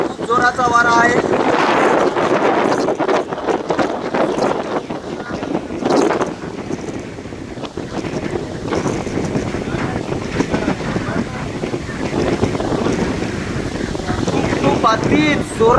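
Very strong storm wind batters the microphone in Ardhapur during a thunderstorm as rain begins, a loud, roaring, continuous gusting with sharp buffeting peaks, while a person talks over it.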